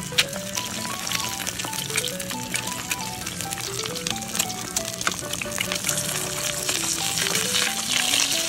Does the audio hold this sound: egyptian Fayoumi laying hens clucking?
no